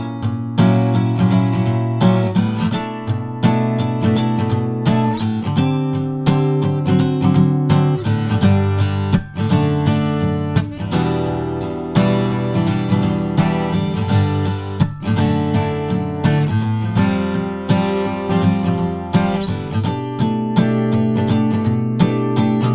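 Guitar playing the chords of a song, a steady rhythmic strummed chord pattern with dense repeated strokes running continuously and loud, without any voice.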